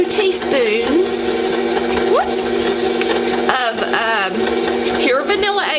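An electric mixer whirs through pound cake batter close by, with a continuous motor drone and shifting pitch sweeps as the beaters move, while a person talks over it.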